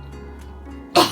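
A single sharp sneeze bursts out near the end, right after a bite of mayonnaise mixed with horseradish during a meal of perch fillets and stuffed mushrooms, following a stretch of quiet room hum.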